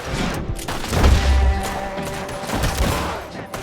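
Gunfire in the video game Red Dead Redemption 2: a loud, dense fusillade of overlapping shots and booms that fills the whole moment without pause.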